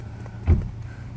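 A 1959 Rover P4 100 with manual gearbox and overdrive starts up: one short, low cranking burst catches briefly, close by, over a steady idling rumble.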